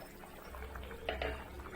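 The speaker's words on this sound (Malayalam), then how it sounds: "അപ്പോൾ നമ്മുടെ അരപ്പ് നന്നായി തിളച്ചു വരുമ്പോഴേക്ക് മീൻ കഷ്ണങ്ങൾ ഓരോന്നായിട്ട് ചേർത്ത് കൊടുക്കാം" Kerala fish curry masala paste for karimeen mappas bubbles in a pan, soft and faint, with gentle popping and a couple of louder blips.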